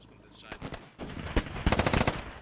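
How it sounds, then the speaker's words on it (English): Rapid 30mm cannon bursts in the game Squad hammer at a walled compound, loud, close and sharp, building into a dense string of shots after a brief lull. "30mm trying to shoot into the compound through the walls."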